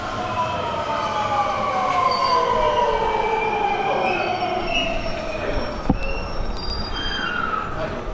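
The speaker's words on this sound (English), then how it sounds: "we'll hop on the train and just go to the next stop" A train in Japan, near Lake Biwa, rolls along the rails with a steady rumble while wheels squeal in long, high, wavering tones. A sharp clank sounds partway through.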